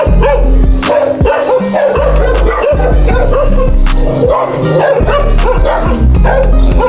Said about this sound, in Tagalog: Maraming mga aso.